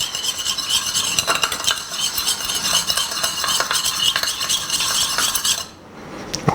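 Utensil stirring unrefined sugar and vinegar in a bowl to dissolve them for a garlic and yellow chili dipping sauce, a steady close scraping and clinking that runs several seconds before stopping abruptly.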